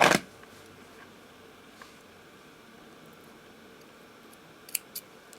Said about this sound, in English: I can cut the thread